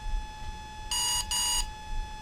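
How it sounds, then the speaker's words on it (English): An electronic speed controller for an Exeed RC Proton or Volcano gives two short, bright beep bursts in quick succession while being programmed, sharp and clear over a faint hum. "there's a beep, two beeps, and three beeps"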